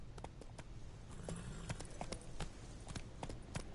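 Horse hooves clip-clopping in a steady walking rhythm from Roach, the horse in a video game, moderately close and soft under faint game ambience.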